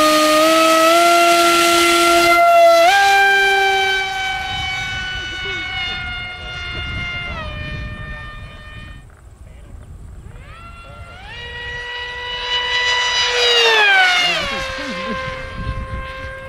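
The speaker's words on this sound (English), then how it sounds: "This flight, we're gonna use a 7x8 inch pitch prop on 6S" Electric RC plane with a BadAss 2826-1360KV motor spinning a 7x8 prop on 6S, a loud sustained tonal whine that sweeps in pitch, dipping and rising as the plane passes, with a swelling and fading roar.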